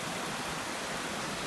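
Waterfalls on Christopher Creek, Arizona, running high after a monsoon thunderstorm: a steady, dense roar of rushing water, loud and close, with no breaks or other sounds.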